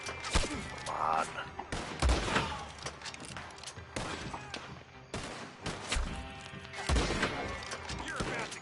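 Gunfire in the video game Red Dead Online, repeated loud shots and booming reports in irregular bursts amid a busy in-game soundscape, with someone talking over the action.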